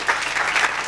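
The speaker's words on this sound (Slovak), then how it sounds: "Poprosím potlesk." A brief burst of audience applause at a cycling-cities conference talk on public spaces in Bratislava, a dense wash of clapping lasting under a second with no voices over it.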